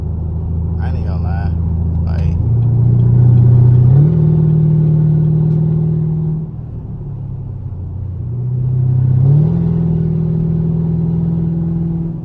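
Inside a Camaro SS with a 6.2L V8 cruising the highway, the engine drones in a deep, steady rumble that rises and falls twice with light throttle, while someone talks briefly near the start.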